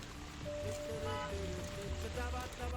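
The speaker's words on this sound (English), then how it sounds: "When it's not scorching hot, this place is pissing it down." Heavy rain falls in Sichuan, a dense, steady patter of drops on hard surfaces heard from close by, with some faint background sounds under the rain.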